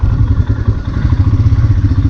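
A Royal Enfield Himalayan motorcycle rides along with a loud, close engine drone and a rapid rhythmic throb, with no talking.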